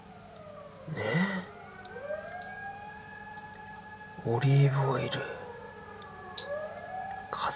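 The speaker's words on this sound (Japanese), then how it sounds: "救急車来ちゃったよ。 ピーポーピーポー言って" A wailing ambulance siren sweeps up and down steadily in the background while a person speaks in short bursts over it.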